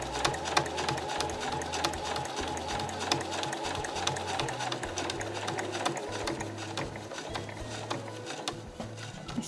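A sewing machine runs steadily, stitching Marimekko cotton fabric for a drawstring tote bag. It makes a continuous, close mechanical whir with a rapid rhythmic needle clatter that barely changes over the stretch.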